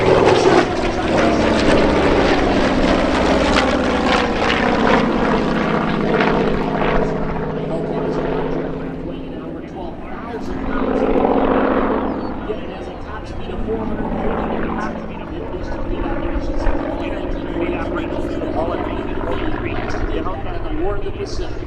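A Grumman F6F Hellcat fighter with its Pratt & Whitney R-2800 Double Wasp 18-cylinder radial engine roars steadily and loudly, its deep throbbing drone swelling and easing slightly as the propeller aircraft runs nearby.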